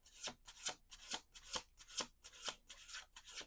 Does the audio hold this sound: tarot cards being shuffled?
yes